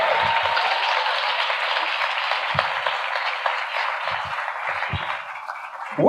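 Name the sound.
audience applause for Jesmyn Ward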